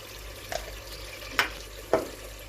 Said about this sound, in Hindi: 4 से 5 मिनट हो गए मुझे गोश्त भूनते हुए। इसने अपना घी छोड़ दिया।